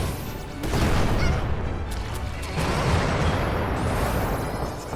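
Explosions in the video game Little Witch Nobeta: a dense, roaring wash of blasts fills the whole stretch, loud and continuous, with a heavier burst about a second in and another swell midway.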